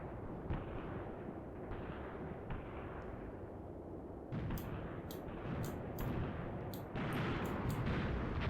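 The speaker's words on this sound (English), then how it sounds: "Presumably it's Villinger's mortars that are firing in there, because it seems to be ahead of our troops" Mortars firing in the WWII tactics game Graviteam Tactics on the Luga Line: a steady low rumble of distant battle with dull thumps. Later a series of sharper, brighter cracking bursts repeats at short, uneven intervals, at moderate volume.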